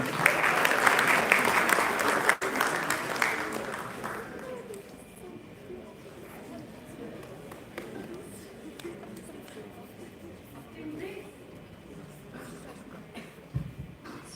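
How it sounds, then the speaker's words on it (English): Audience applause at a youth summit closing ceremony, a loud dense burst for the first few seconds that tapers into scattered, fading claps and room murmur. "A huge round of applause for our little angels guiding the future."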